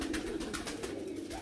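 A Lal Pari pigeon coos softly in low, rolling murmurs, faint and close, over a steady noisy background.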